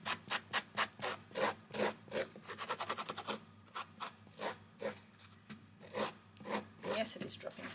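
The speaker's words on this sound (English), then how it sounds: "I'm going to just do a bit of sanding here and there" Sandpaper rasps against a fabric quilt block in quick repeated back-and-forth strokes, close and fairly loud, with brief pauses between bursts.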